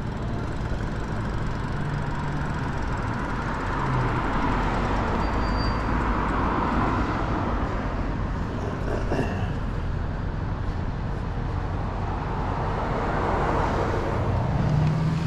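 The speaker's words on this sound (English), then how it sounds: "busy little road right here" Steady traffic on a busy little road: cars rush past in a continuous loud roar with no clear breaks, heard from the roadside by an e-bike rider waiting to turn.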